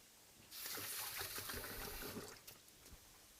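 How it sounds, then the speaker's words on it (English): Water runs steadily from a tap as hands are washed at a kitchen sink after handling Cumberland sausage, starting abruptly and continuing with small splashes and trickles before easing toward the end. "just go and wash my hands."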